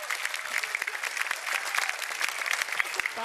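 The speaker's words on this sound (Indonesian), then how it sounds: "Terima kasih ya, tepuk tangannya." Lively audience clapping at a stand-up comedy show, crisp individual claps packed into a close, continuous burst that keeps a brisk, uneven rhythm from start to finish.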